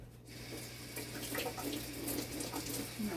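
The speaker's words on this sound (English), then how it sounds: "I think I need to add a bit more water" Water runs steadily from a kitchen tap, added while cooking a tin mackerel dish with carrot, green plantain and cornmeal: a continuous, close splashing rush with no talking.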